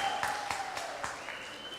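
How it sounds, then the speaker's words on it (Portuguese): An audience applauds a speaker at a youth event, a steady spread of clapping with some louder individual claps and a faint tone running underneath. "Uma salva de palmas."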